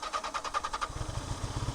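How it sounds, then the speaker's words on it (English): Yamaha XJ650 Turbo motorcycle trying to start: a rhythmic whirring starter crank for under a second, then a low, rough engine rumble that sounds like it has just caught, close and steady. "Will the bike start up easily again?"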